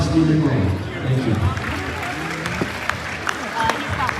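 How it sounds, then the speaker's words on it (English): Applause from a crowd at a political dinner gala, steady clapping under a voice, fading slightly toward the end. "Please round of applause for Steve McMullen"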